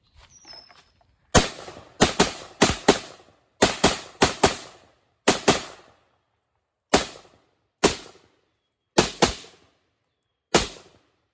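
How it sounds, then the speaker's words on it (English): Rifle shots from an AK47 or SKS fired into the ground outdoors, about fourteen sharp loud reports in uneven clusters with short gaps, each cracking out and fading quickly, no talk. "I'm just gonna shoot at the ground."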